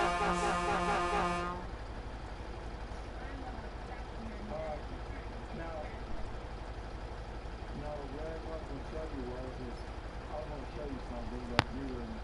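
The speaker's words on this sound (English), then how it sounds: "I'm just pulling the horn repeatedly" In the Mudrunner off-road game, a truck horn blares in one sustained, buzzy blast for about a second and a half, then gives way to quiet game ambience while people talk over it.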